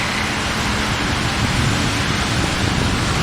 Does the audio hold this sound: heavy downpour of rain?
yes